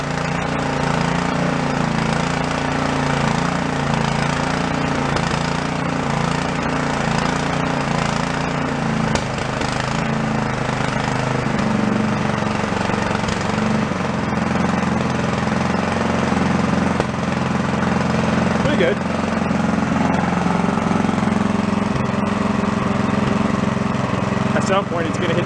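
A small gasoline engine from a yard-sale find runs at low idle with the choke off, a steady, close chugging rumble with slight uneven popping throughout; someone speaks briefly over it.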